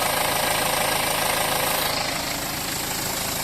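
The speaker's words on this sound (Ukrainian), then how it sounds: "Двигун працює" A 2010 BMW X3 M engine idling under the hood, a steady loud rumble with a fine rapid pulsing and faint ticking, close and continuous with no talk.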